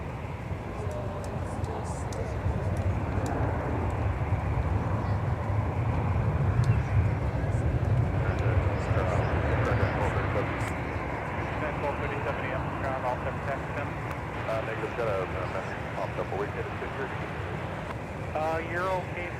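A jet airliner taxiing at Minneapolis airport gives a steady low rumble and whine, fairly loud and constant, under radio chatter from air traffic control.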